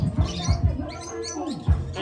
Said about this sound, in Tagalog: May mga ibon din, guys, syempre.